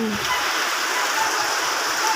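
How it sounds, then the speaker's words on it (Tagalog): Steady, dense hiss of heavy rain pouring continuously, loud and close, with no pauses and no voices. "Ang lakas talaga ng ulan."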